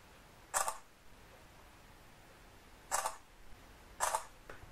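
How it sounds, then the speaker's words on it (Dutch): A camera shutter clicks three times in separate crisp bursts, close and fairly loud, with gaps of about two seconds and then one second between them over quiet room tone. "Ga eens even een foto maken voor op Instagram."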